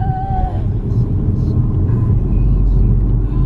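A car accelerates while driving, a steady low engine and road rumble heard from inside the cabin, loud and continuous for a few seconds.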